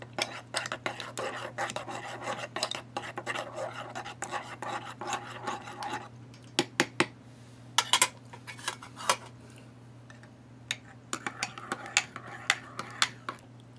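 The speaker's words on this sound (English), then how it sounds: "Let it stir and let it incorporate" A utensil stirs and scrapes a WW2 K ration dinner in a metal mess kit, with rhythmic rasping strokes at first, then sharper intermittent metallic clinks and scrapes close up.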